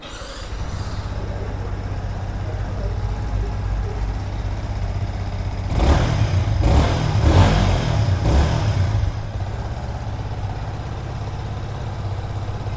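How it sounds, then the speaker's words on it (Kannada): A Yamaha XSR 155 motorcycle idles close by, its exhaust putting out a steady low thrum throughout, with a few brief louder pulses in the middle. "ಐಡ್ಲಿಂಗಲ್ಲಿ ಈ ಥರ ನಾಯ್ಸ್ ಬರ್ತದೆ"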